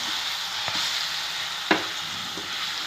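Ripe banana mashed and sautéed in ghee for a banana laddu: a steady close-up sizzle with a few brief scraping stirs of a spoon against the pan.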